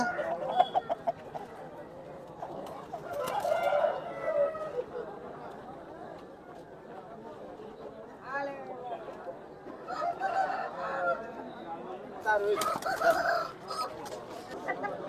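A rooster crows and chickens cluck at a busy country poultry market, with several loud calls rising over crowd noise while people haggle over prices nearby.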